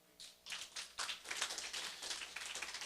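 Church congregation claps, starting with a few scattered claps that quickly build into a moderately distant burst of applause with uneven rhythm.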